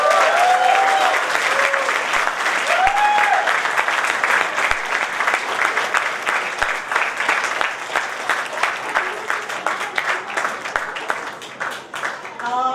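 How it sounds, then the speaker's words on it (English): An audience at a grade 2 school fables show gives sustained, loud applause from many hands, with cheers and voices mixed in, gradually thinning toward the end. "give them a huge round of applause"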